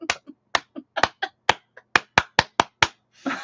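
A clapping sound effect plays on a livestream: about a dozen crisp, separate claps in a loose, uneven rhythm, close and loud against silence, ending in a short burst of hissy noise.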